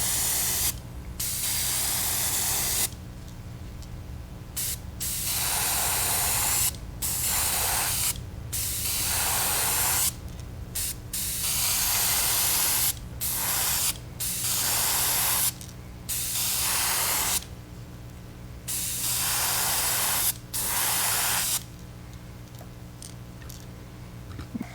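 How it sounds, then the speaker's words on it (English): An airbrush at low pressure sprays Pearl Plum paint onto a crankbait fishing lure for a crackle shad pattern. Steady hissing bursts come close and loud, broken by short pauses at an irregular rhythm. "low pressure, keep your airbrush back a ways. And I want to paint the top half of this with this Pearl Plum."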